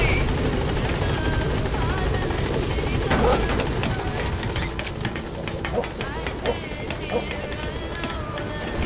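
The Pequod helicopter in Metal Gear Solid V: The Phantom Pain hovers at a landing zone, its rotor giving a loud, constant throbbing drone throughout, while a radio voice speaks over it.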